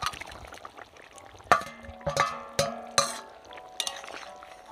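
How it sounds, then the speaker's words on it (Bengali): Fried boal fish pieces go into a simmering potato curry, with a few sharp clinks and knocks of utensil against pot spaced over a soft background hum, without speech. "এবার আমি ভেজে রাখা মাছ দিয়ে দেবো"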